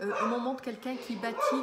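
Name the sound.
dog barking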